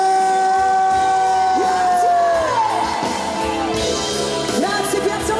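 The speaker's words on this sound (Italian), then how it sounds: "E l'applauso più forte a Jesolo questa sera per voi" A crowd at an open-air summer concert in Piazza Manzoni, Jesolo, cheers a singer with loud whoops, shouts and yells over a sustained, tonal musical chord. The noise stays dense throughout.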